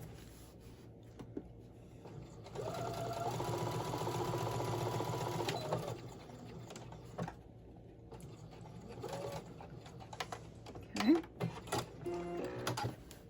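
A sewing machine runs steadily for about three seconds, stitching a quarter-inch seam up the side of fabric for a mini Santa sack, then stops; brief handling clicks follow, with quiet voice-like sounds near the end.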